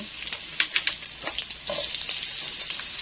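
Garlic, onion and chili sautéing in hot oil in a pan give a steady close sizzle with soft crackles and light pops throughout, plus a few clinks at the start.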